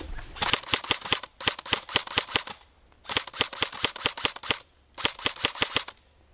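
Airsoft guns fire during an outdoor field training exercise, sharp snapping shots in three rapid bursts of about eight to ten rounds each, close and loud with brief gaps between volleys.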